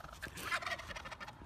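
A turkey gobbles in a quick rattling burst, close and fairly clear, with no talk over it.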